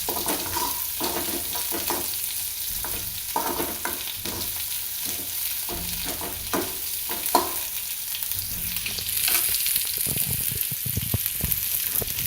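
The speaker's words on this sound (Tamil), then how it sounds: "முக்கால் ஆனியன் போட்டுருக்கேன் இது நீங்கள் ஒரு ரொம்ப வதக்கண்டா ஒரு ஒன் மினிட் வதக்கினா போதும்" Onion sizzles steadily in a hot pan while being stirred for a drumstick (murungaikai) poriyal, with repeated scraping strokes of a spatula and a brief louder clatter partway through, no voices.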